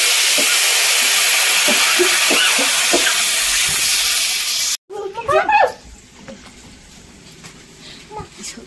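Water poured into sautéed spiced vegetables in a hot home kitchen pan, a loud steady hissing sizzle that cuts off abruptly, followed by voices talking over quieter kitchen noise.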